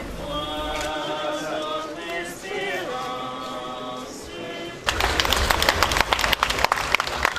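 Sustained applause from fellow lawyers at a funeral breaks out after a stretch of narration, dense and close clapping that carries on to the end.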